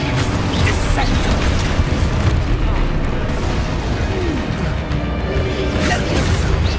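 In Hogwarts Legacy, the Descendo spell lands with a dense, rumbling blast of crashing, booming impact noise and debris that fills the whole stretch, loud and continuous.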